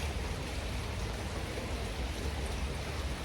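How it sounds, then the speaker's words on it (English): Heavy rain pouring down outdoors, a dense steady broadband hiss of falling drops that stays loud and unbroken throughout. "It is downpouring, in case you couldn't hear from all the raindrops around me."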